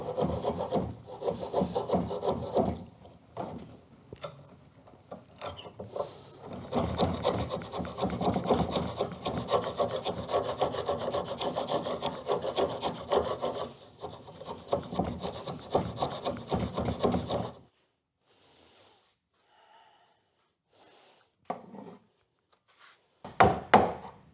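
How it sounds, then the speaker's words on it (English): A chisel shaving and scraping wood while shaping a boat transom: a long run of close, rasping strokes that is loud and continuous, then it stops and only a few faint knocks and taps follow. "let me get a chisel"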